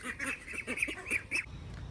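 Several ducks quack in a loose, overlapping burst of nasal calls, fairly close and clear, then fall quiet near the end with only low background rumble left.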